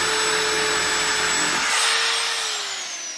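A power drill runs at a steady high whine during metal-frame construction work, close and loud, then its pitch sags slightly as it begins to wind down near the end.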